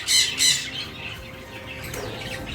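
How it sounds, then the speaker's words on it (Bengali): A baby pet bird in a home aviary setup gives two loud, harsh squawks in quick succession close by, followed by a quieter stretch of faint room noise. "বাচ্চা পাখি"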